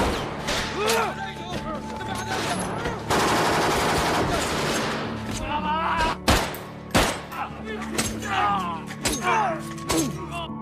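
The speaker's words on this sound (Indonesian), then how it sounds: "baku tembak jarak dekat pun tak terhindarkan" Close-range gunfire in a film battle scene as a SWAT team clashes with ISIS fighters: dense bursts and sharp thuds over a busy, loud mix, with shouting voices and a sustained roar midway before scattered heavy impacts.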